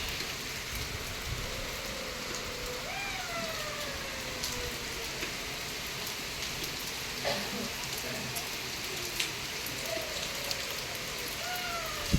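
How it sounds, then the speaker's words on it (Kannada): Heavy rain pours steadily outside at dawn, a dense, even hiss at moderate distance that runs unbroken, with a few faint rising and falling tonal wails drifting through it. "ಎಷ್ಟು ಮಳೆ ಇದೆ ನೋಡಿ"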